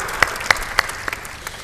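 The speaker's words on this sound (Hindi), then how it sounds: "ताली बजा दो इसके लिए।" Scattered hand claps from an audience at a religious discourse gathering in Nimach, Madhya Pradesh: a handful of sharp, separate claps, fairly close, fading quickly with no talk over them.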